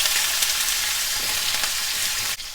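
Sliced onion and a sprig of curry leaves sizzling in hot oil with mustard seeds and urad dal for idli kulambu, a loud, continuous close frying hiss that drops off abruptly at the end.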